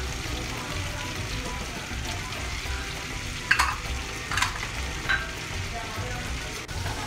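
Onion slices fry in a pan for a lamb dish, a steady close sizzle broken by a few sharp stirring scrapes and clatters.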